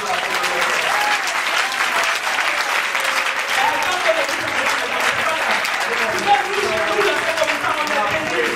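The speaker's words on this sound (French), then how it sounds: "Acclame-moi encore." A church congregation applauding in sustained, dense clapping that fills the room, with voices calling out over it.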